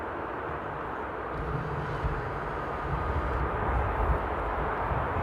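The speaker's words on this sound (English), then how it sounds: "there's the first landing on runway 18 right" Airliner landing on runway 18 Right at Amsterdam Airport, a steady broad rumble of engine and roll noise held at moderate distance for several seconds, swelling slightly toward the end, with no talk.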